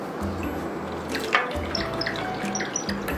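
Bottled gallon drinking water pours into a glass at home, a steady trickling splash with small drips and a clink partway through, close and alone.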